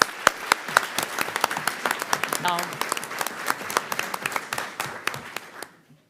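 An audience at a school board meeting gives a round of applause for successful young students, a crowd of hands clapping with sharp individual claps standing out up close, a brief voice partway through, then fading out.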